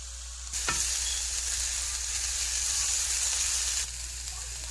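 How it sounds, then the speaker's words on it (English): Chopped vegetables and minced garlic sizzle steadily in a pan for jambalaya, a loud, even hiss that starts suddenly with a brief stir near the start and drops off abruptly near the end. "I've added my vegetables to the pan. I'm going to let them cook down until they're nice and soft."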